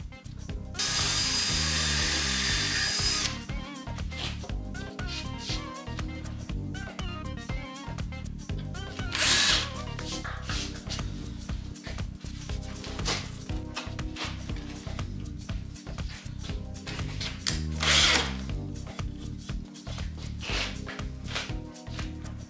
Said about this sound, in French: je n'ai plus qu'à visser autour du casier les dernières lames de bois